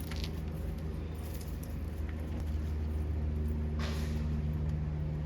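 A 2006 BMW M5 E60 with its 507-horsepower V10 settles after a cold start, holding a steady, dense low idle drone throughout, loud and continuous with no talking.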